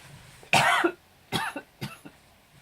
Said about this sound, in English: Excuse me, I'm going to cough, I think.